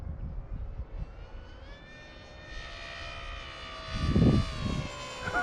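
A Talon 250g RC plane with a T-tail flies with a steady, high electric-motor whine that shifts in pitch as it passes, over wind rumble outdoors.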